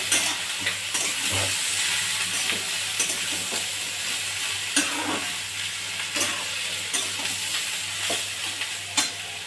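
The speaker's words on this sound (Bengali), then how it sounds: "আলুটা ধোয়া আলুটা দিয়ে দেবো। আলুটা ভালো করে নেড়ে" Washed potatoes frying in a pan after bitter gourd, stirred with repeated scraping strokes over a steady close sizzle.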